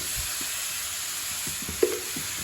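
Onions sautéing with rock salt in a pan for a simple fish curry, giving a faint steady sizzle with a few soft stirring scrapes and one brief sharp clink.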